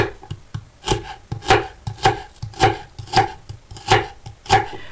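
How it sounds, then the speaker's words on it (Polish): A knife finely chops washed, dried celery in a steady rhythm of about nine firm, evenly spaced strokes, loud and close, with no voices. "umytego i osuszonego selera drobno kroję"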